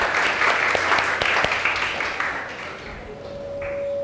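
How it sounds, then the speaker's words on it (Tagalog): A church congregation bursts into applause, a dense wash of many hands clapping that fades gradually over a few seconds as a low tone rises beneath. "The best po munang palakpak para kay Jesus."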